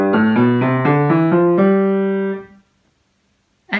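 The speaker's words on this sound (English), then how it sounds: "So this is a Mixolydian scale." A piano plays a Mixolydian scale as a quick run of single notes, each struck cleanly and ringing briefly before the next, ending on a held note that fades out, followed by a short sound at the very end.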